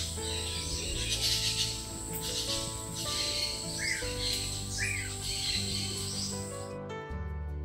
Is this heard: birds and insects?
yes